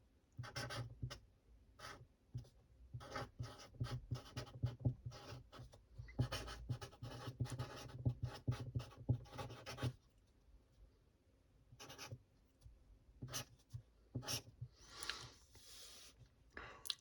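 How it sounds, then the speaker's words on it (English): Pen scratching across paper in close, quiet strokes, with bursts of writing separated by short pauses, then a few soft rustles near the end. "So I might as well write on here."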